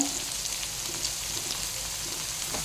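Peas and brinjal frying in a pan for vangibath, a continuous soft crackling sizzle heard close and even for a few seconds.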